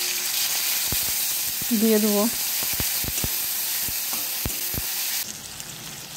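Onion, ginger, garlic and chili paste hisses in a pan of oil with bay leaf and fried onion, a steady close sizzle with a few sharp utensil clicks and a brief spoken phrase over it.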